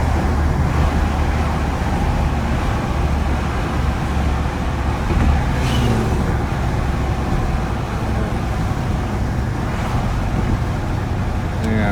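A 1991 Mercedes 500SL engine at high idle with the car warming up, a steady, continuous close rumble and whir holding one even level throughout, no voices.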